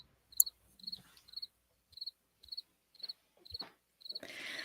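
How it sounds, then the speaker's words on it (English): Crickets chirp in steady, evenly spaced pulses, each a short high trill repeating about every half second, fairly close and clear against a quiet background, with a brief rustle of noise near the end. "Cue the crickets."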